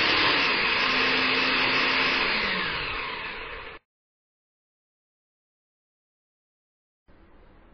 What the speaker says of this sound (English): So I first add some tomatoes to the chopper jar, and this, you know, the half the batch, I want to, you know, crush these and not blend these.